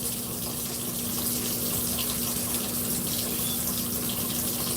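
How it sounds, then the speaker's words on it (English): Running water from a tap pours steadily into a sink, a continuous broadband rush with a faint steady hum, close and alone with no talking. "Let me turn this water on so y'all don't hear me pee."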